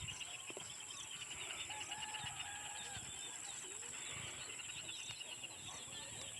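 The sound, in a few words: maya birds (sparrows) in a corn field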